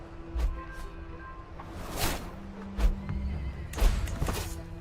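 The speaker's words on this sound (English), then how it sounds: "Look at these horses just running wild." Horses neigh and whinny repeatedly in Crusader Kings 3, several loud calls spaced through the clip over a steady game soundscape, with faint hoof clatter and no talking.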